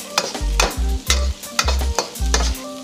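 Carrots for chicken chow mein are stir-fried in a hot pan, with about five rhythmic scraping strokes over a steady loud sizzle.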